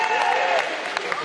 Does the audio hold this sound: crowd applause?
yes